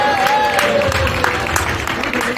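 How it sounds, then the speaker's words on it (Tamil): Audience clapping at a tennis tournament ceremony during Diwali celebrations, a steady dense patter of applause with crowd murmur and a faint tonal line running through it. "ஸோ உங்களோட கைத்தட்டல் தான் என்னோட சந்தோஷம்."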